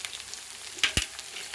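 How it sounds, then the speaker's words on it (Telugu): Turmeric and spices frying in a pan for prawn curry, a soft close sizzle broken by two quick knocks of a spoon against the pan. "పచ్చివాసన పోయే వరకు వేయించుకోవాలి"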